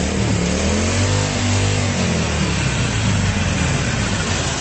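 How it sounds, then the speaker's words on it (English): Harley-Davidson 883 Iron motorcycle engine revving up and settling, a loud, close, deep throaty rumble with a rising then falling pitch, heard alone without talk. "Listen to that engine once more."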